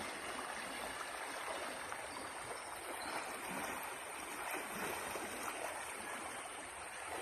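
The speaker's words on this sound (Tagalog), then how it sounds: "Lakas ang tubig." A strong river current flows during a river crossing, a soft but continuous rushing and gurgling of water with no voices.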